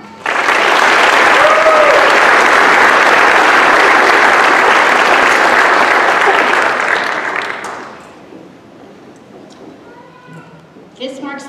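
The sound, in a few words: audience applause at awards night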